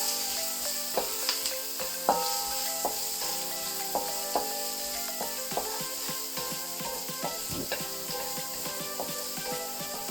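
Onion and garlic sauté in hot oil for pakbet, a steady sizzle under repeated light scraping and tapping of a utensil against the pan, with faint tonal hum throughout.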